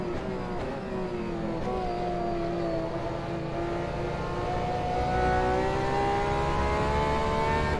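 An LMP2 prototype race car roars past in the rFactor 2 racing game at Le Mans, its loud engine note rising steadily in pitch over a constant drone of other engines.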